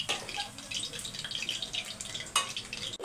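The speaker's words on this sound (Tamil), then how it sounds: "எண்ணெயில் தண்ணி பட்டுடுச்சு போல இருக்குது." Hot oil in a cooking pan sizzles and crackles after water gets into it, a close, continuous hiss with sharp pops and sputters while a brinjal garlic rice dish is being mixed.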